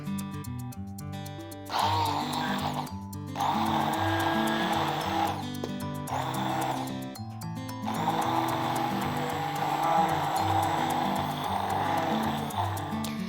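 A kitchen blender whirs loudly in bursts as it chops sweet cream ingredients including avocado, stopping and restarting several times over background music.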